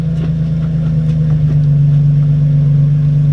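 Infiniti G35 engine running in a steady, loud low drone as the car drives, close and continuous with no talking.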